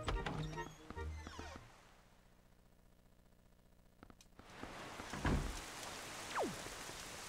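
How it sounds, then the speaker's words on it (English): Rain falling in The Legend of Zelda: The Wind Waker, a steady wash of drops that thins out in the middle and then returns louder, with a few sharper splashes and knocks on top. "And it's still raining"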